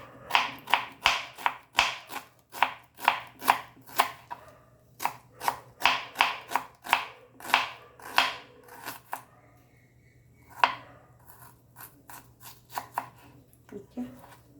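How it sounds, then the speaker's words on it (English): A knife chops vegetables for a traditional Goan salad, a rapid run of crisp, close taps on a cutting board in steady bursts, with a short pause partway through before the chopping resumes. "chop this way."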